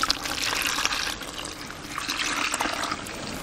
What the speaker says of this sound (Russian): И в известь сейчас мы будем добавлять холодную воду.